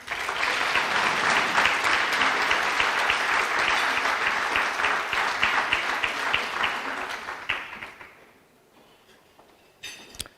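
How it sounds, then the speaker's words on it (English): Rhythmic applause from an audience at a university vice-chancellor's excellence awards, steady and full for about eight seconds before fading out, with a few scattered claps after. "Let's give them another round of applause."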